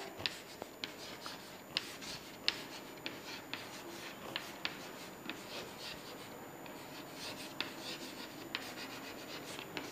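Writing on a board during a biology lesson on glycolysis: a steady, faint scratching and rubbing with small tapping accents as letters are formed, close and without speech.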